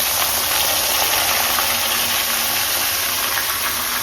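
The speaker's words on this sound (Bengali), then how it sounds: "কুচিয়ে রাখা যে পেঁয়াজগুলো ছিল এগুলোকে আমরা তেলের মধ্যে দিয়ে" Chopped onions frying in hot oil for a mutton curry, a steady close sizzling hiss that holds evenly throughout with no pauses.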